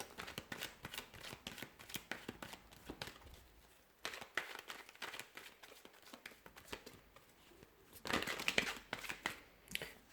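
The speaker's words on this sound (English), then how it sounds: "I'm going to go ahead and give the cards a shuffle" A deck of tarot cards being shuffled by hand, with quick, soft riffling and flicking bursts that come in repeated runs and pause briefly in between, close and fairly quiet.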